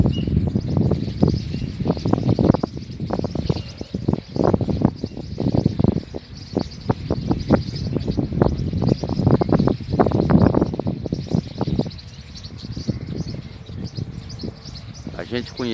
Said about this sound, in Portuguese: A gente conhece esses pássaros como sabacus. Tem bastante aqui.